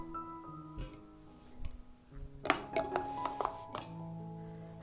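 Glass jars are set one after another onto a cloth lining the bottom of a cooking pot, giving soft knocks and a few brighter clinks close by, with a faint tonal hum underneath.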